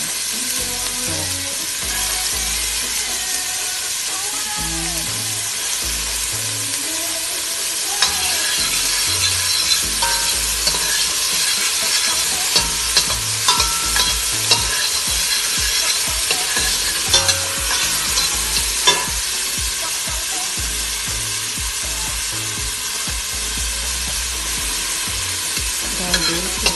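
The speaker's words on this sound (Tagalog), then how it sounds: "First, ilagay natin yung onion." Onions frying in a pan for marag, an Arabic dish, with a constant loud sizzle and repeated scraping and clinking of a utensil stirring them, going on alone without talk.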